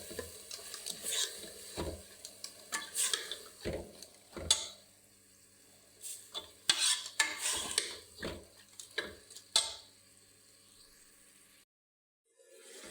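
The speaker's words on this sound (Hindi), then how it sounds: "और इसको हम अच्छी तरह भूनेंगे।" Moong and masoor dal is stirred and roasted in a pan, with irregular scraping and clinking strokes of a spoon against the pan over a faint, steady sizzle, close and fairly quiet.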